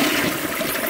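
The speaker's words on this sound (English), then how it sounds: "See how it flushes, and then the flush abruptly stops, and then it siphons out." An old toilet, around 100 years old, flushes on 1.6 gallons, a loud close rush of gushing water that fills the moment without any talk.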